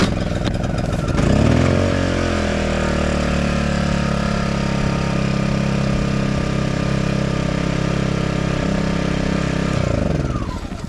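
A repaired lawnmower engine cranks and catches, then runs steadily at a loud, close idle with a constant mechanical drone for several seconds before dropping off at the end.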